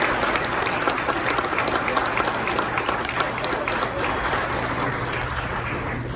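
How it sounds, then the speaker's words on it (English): The audience applauds at a Kenosha County Sheriff's Department promotion ceremony, with sustained, even clapping from a seated crowd in a hall that slowly tapers toward the end. "A round of applause for Captain Ruth."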